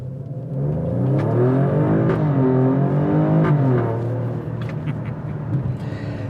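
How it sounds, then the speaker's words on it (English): A 2021 Alfa Romeo Stelvio Quadrifoglio accelerating hard, heard from inside as a loud, rising engine drone with a turbo spooling up, climbing through the revs before easing off. "Takes a little bit for the turbo to spool up and then just throw you forward."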